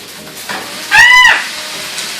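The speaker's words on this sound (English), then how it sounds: "So I steamed it in the microwave really quickly and I'm throwing it in the pan." Steamed broccoli hits a hot pan with a brief, loud hissing sizzle that swells and fades within half a second, over a low background hum.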